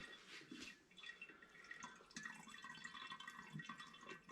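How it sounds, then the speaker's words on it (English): Black porter wort for an all-grain honey porter pouring into a glass demijohn, a faint, continuous trickle and splash of liquid filling the vessel, with no talking. "So the Demijohn's filling nicely."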